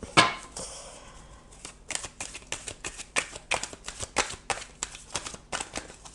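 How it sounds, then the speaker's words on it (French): Tarot-style cards slipping and falling onto a table, a burst of papery slaps followed by a run of quick flicking taps and rustles, close by and without talk. "je fais tomber les cartes"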